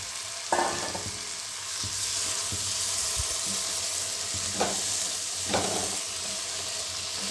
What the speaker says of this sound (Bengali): এবার আমি রাজমাগুলো দিয়ে দিচ্ছি।